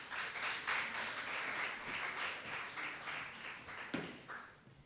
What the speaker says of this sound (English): Let us have a huge round of applause.